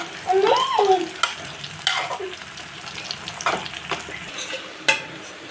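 Drumstick leaves cooking in a pan are stirred in a few scraping strokes over a soft, steady sizzle, with sharper clanks of the spoon against the pan, close and moderately loud, with no talk.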